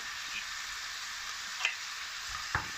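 Rice and sliced leeks sautéing together in olive oil in a pan, a soft continuous sizzle with a couple of light utensil taps, fairly quiet and alone.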